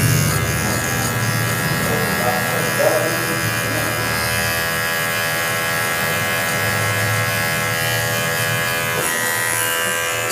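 An electric hair clipper buzzes steadily while cutting hair during a simple haircut, its close, constant whine running throughout under a voice.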